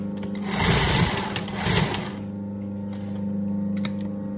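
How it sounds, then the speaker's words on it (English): A sewing machine stitching fabric, with a fast whirring, rattling run in two bursts over about two seconds, close up, then a low hum with a few light clicks. "Right now, guys, I'm going to go ahead and stitch it down"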